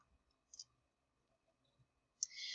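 A computer mouse clicks in a quiet room. There are two short, sharp clicks, one early and one near the end, with near silence between them and no talking.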